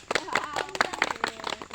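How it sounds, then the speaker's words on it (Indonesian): A classroom audience claps for students during a teaching-practice session, with close, brisk clapping tangled with several voices talking. "Tepuk tangannya dulu untuk mereka agar semangat."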